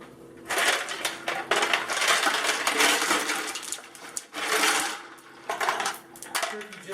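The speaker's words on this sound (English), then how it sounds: "Now I'm going to hit it with some ice." Ice cubes tumble into a container of turkey brine, a loud, sustained clattering and crunching rush that comes in several bursts with short pauses, close and dominant.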